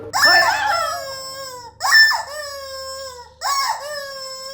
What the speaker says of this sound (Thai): คือเสียงไก่ร้องตอนหกโมงเช้า